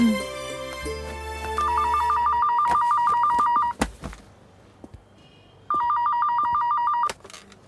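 A landline telephone rings in two bursts of rapid, trilling electronic tones, with a pause between them filled by faint clicks and thumps.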